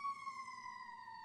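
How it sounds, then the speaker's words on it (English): A steady electronic siren wails alone at moderate distance, its tone holding level and sliding slightly lower as it passes, with a faint low rumble underneath. "that's the ambulance coming for your reputation, Phil."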